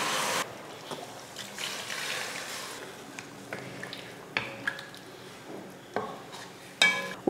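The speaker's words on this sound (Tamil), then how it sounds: "இப்போ இதில் தண்ணி சேர்த்துருவோம். மிக்ஸி ஜார கழுவி சேர்த்துருங்க." Water rinsed from a mixer jar is poured into a pan of kara kulambu, a spicy tamarind curry with brinjal, drumstick and potato, with trickling and splashing broken by a few sharp clinks of metal utensils.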